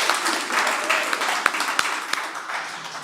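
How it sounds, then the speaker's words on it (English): An audience at a live bluegrass radio show on WDVX Blue Plate Special claps steadily, a dense wash of applause with a few sharper individual claps standing out. "how about one more round of applause for Tony Bruce"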